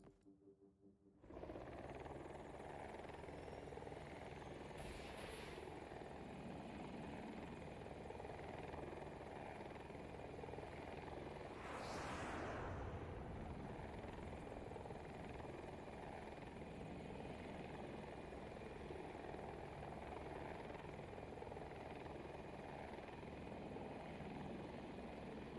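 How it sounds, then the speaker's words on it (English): Attack helicopter in a video game, a loud continuous rotor thrum that starts abruptly and holds steady throughout, swelling briefly with a passing whoosh near the middle. "Attack helicopter."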